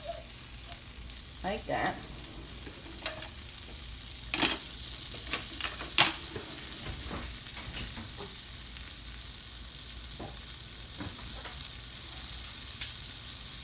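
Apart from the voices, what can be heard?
butter sizzling in hot oil in a pan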